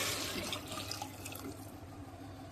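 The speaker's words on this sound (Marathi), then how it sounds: "तांदळाप्रमाणे पाणी घालायचं" Hot water poured from a vessel onto rice in a pot while making prawn biryani, a soft, fairly quiet splashing rush that is strongest at first and then tapers off, with no talking.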